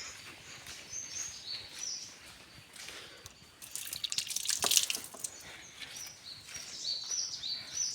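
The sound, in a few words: washing green sour fruit under running tap water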